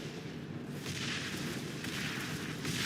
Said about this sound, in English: Okay, I'm bombing. I am bombing.